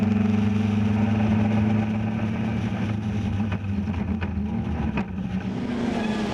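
Caterham race cars racing at Oulton Park heading into a braking zone, a steady engine drone with strong low hum that shifts and fades slightly as cars pass.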